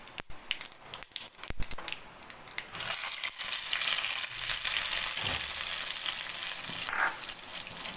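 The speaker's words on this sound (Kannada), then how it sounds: "ಮೆಂತೆ ಮತ್ತು ಸಾಸಿವೆಯನ್ನು ತುಪ್ಪದಲ್ಲಿ ಒಗ್ಗರಣೆ ಕೊಡೋದು" A few sharp taps and clatters, then a loud, steady sizzle and spitting as mustard and fenugreek seeds hit hot ghee, continuous and close.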